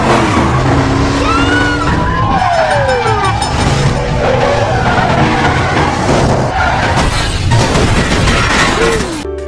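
Movie car chase in which a pursuing car skids and slams into the base of a bridge, rolling over several times; loud tire squeals, screeching slides and crashing impacts fill the scene densely with dramatic score throughout.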